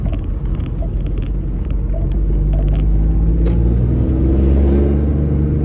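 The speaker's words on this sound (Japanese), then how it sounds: "このマフラーのビビリ音がすごいんで" A Honda S660 drives with a steady low engine rumble that swells slightly as it moves. Faint rattling accents from the muffler sit above the drone throughout.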